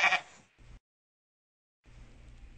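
Goats in a children's fable about a single-log bridge bleat sharply and loudly at the start, then give a short second cry, fall silent, and return with a low continuous rumble.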